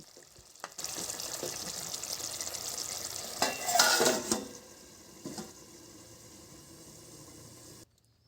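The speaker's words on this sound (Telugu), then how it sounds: "ఇప్పుడు ఇందులో కోసుకున్న చిలకడదంప ముక్కలను వేసుకొని కలుపుకోవాలి" Cut sweet potato pieces are stirred in a hot pan, a continuous close sizzle broken by louder scraping bursts around the middle, before cutting off abruptly near the end; no talking.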